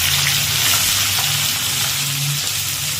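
Chopped onion hits hot oil in a pan over a high gas flame with cumin already in it, giving a loud, dense, continuous sizzle close by, steady from start to finish with no talking.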